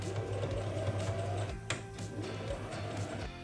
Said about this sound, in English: Make a zigzag stitch.